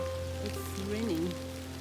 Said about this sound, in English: It's heavily raining and we still have 4 kilometers to go.